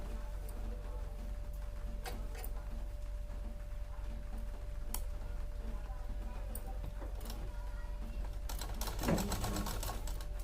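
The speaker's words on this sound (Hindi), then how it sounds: "तो हम अब इसमें यहाँ पर इसको सिलाई लगाएंगे" A sewing machine stitches lehenga fabric with a steady mechanical whir and faint ticking, then breaks into a louder burst of rapid clattering near the end.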